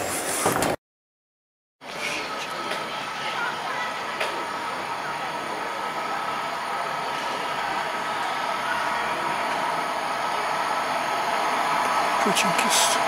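A steady, loud rumble and hiss of a train rolling past nearby at a railway station in Poland, continuous after a brief silence at the start, with faint clatter running through it.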